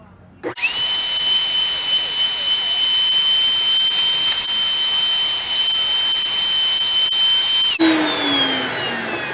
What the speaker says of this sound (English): I've got my 1/4 inch roundover bit here. I'm going to do just a slight roundover on the top and bottom of this